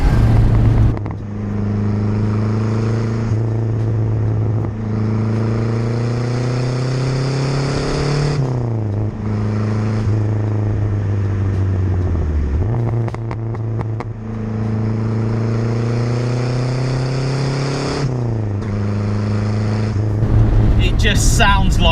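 Renault 5 GT Turbo pulling hard in third gear, its engine note climbing steadily with turbo spool, dropping at each shift and rising again; close and loud, continuous throughout.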